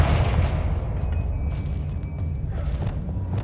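A Confringo fire spell explodes in Hogwarts Legacy, a deep booming blast that rolls off into a rumbling decay with faint magical shimmering tones, with no voice over it.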